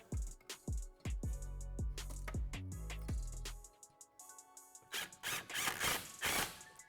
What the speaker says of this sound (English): What we're doing here is just putting a ratchet strap on to hold the rear in place.